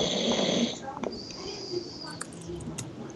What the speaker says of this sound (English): How long has he been snoring?